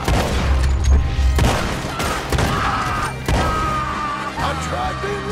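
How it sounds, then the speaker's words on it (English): A video-game shootout in Red Dead Redemption 2 brings loud, rapid gunshots and heavy booms in quick bursts, layered over a dense background of voices and game sound. "Guess we're shooting then!"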